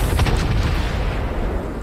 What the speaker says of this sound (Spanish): Sharkhorse y está tirando HE, señores.